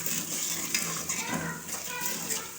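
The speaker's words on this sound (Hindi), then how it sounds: "अब इसको थोड़ा हिला के फिर इसमें लहसुन अदरक का पेस्ट डाल देंगे।" Whole cumin, green cardamom and cinnamon frying in a pan for a mixed vegetable dish while being stirred, giving a soft, steady sizzle with light scraping and clinking of the spoon against the pan, fairly quiet and continuous.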